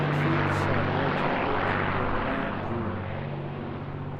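Avro aircraft flying at the Eastbourne International Airshow, a loud, steady propeller engine drone holding close and strong throughout before easing off slightly near the end.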